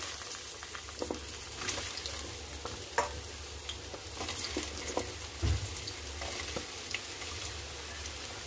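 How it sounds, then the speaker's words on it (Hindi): Potatoes frying in hot mustard oil, a quiet continuous sizzle with scattered pops and occasional soft spatula clinks and scrapes, close by with no speech. "अब हम इसमें ड्रमस्टिक और आलू को फ्राई कर लेंगे"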